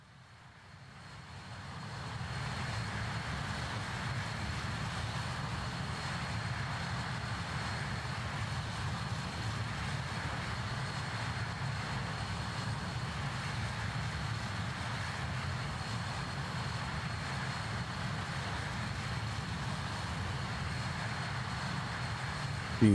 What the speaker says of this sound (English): For being a whisper jet, it's kind of loud.